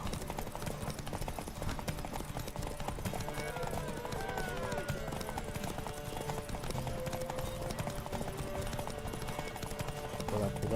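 Horse hooves clip-clopping at a steady gallop during a horse race in The Witcher 3 game, continuous under game music and ambience for the whole stretch.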